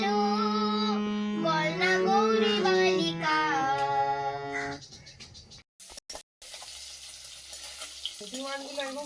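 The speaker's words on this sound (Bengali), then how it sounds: "কড়া করে ভেজে নিলাম লঙ্কা কাঁচা লঙ্কা" Green chillies fry crisp in hot oil, a steady close sizzle and hiss that takes over after a stretch of singing and music, with short gaps in between.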